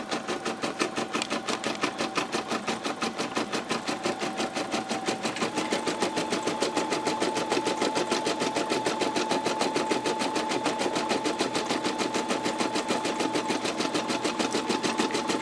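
An embroidery sewing machine stitching a caterpillar appliqué design on a shirt in a large hoop runs in a fast, steady mechanical rhythm of rapid needle strokes with a constant whine, uninterrupted and close, with no voices.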